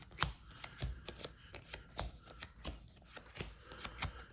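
Quiet, close shuffling of a Magic: The Gathering deck: soft rhythmic taps and slides as cards are dealt and stacked one after another, no talking.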